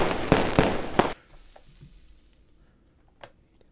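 Fireworks in the Stardew Valley video game: three or four sharp bangs in quick succession, loud and close, followed by faint crackles and a lone pop after a pause.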